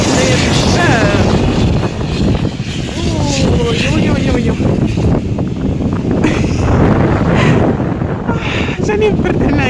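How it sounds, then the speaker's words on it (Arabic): Gusty wind at the harbour of Essaouira, Morocco, rumbles loudly and steadily against the microphone while people talk over it throughout. "الريح كيطير هنايا"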